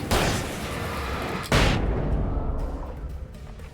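Two flashbang grenade blasts in Alan Wake Remastered, set off in a semi-enclosed space: a loud booming burst, then a second heavy explosion about a second and a half later, each decaying into a long rumbling ring.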